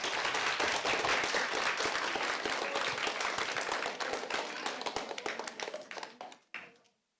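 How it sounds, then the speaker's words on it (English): A school spelling bee audience claps after the end of a round. The dense applause is steady at first, then thins into scattered claps and stops abruptly. "A round of applause might be in order."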